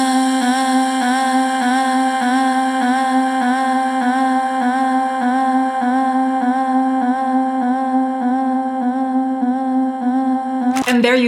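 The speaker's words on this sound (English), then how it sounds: "Or automate the peaking EQ frequency for this trippy vocal effect." Sustained sung vocal treated with an automated peaking EQ whose frequency moves, giving a steady, droning, warbling trippy texture throughout with a brief glitchy burst near the end.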